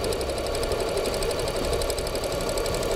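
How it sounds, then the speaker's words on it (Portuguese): Sewing machine stitching all the way around a piece of fabric, a fast even mechanical chatter running steadily for the full few seconds, close and moderately quiet. "E vou costurar toda a volta da minha peça."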